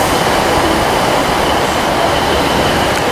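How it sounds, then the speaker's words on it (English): A First Great Western HST passenger train departs Exeter St David's for Newton Abbot, a loud, steady rolling roar of wheels and engine heard from on board, with no voices. "departing Exeter St David's for Newton Abbott on a First Great Western"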